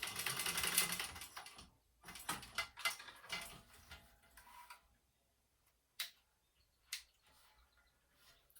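A home sewing machine stitches the second side of a fabric clutch in short mechanical bursts with pauses between them, the runs growing briefer and fainter toward the end.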